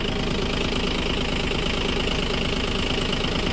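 Mahindra Oja 3140 tractor engine idling steadily, a close, continuous diesel chug with a faint knocking rhythm, holding an even level throughout with no talk.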